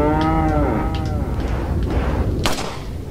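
A cow in the video game Resident Evil 4 moos loudly once, long and low, followed by a dull thump and some background rumble; no talking.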